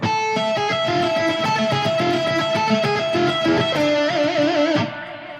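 A fast neoclassical electric guitar lick, notes repeatedly returning to a high E pedal tone in a quick run, ending with vibrato on the last note before cutting off.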